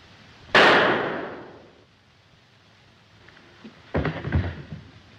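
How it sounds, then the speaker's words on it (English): A single gunshot in a 1937 film, a sharp loud crack with a long ringing decay, followed by a few softer clattering thuds. "It went off. I took hold of the gun and it shot him."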